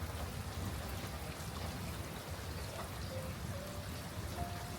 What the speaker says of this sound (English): So it has been pouring rain like all day.